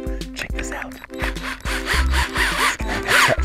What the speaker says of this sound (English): I'm gonna slide our inner screw right in the end of our drill.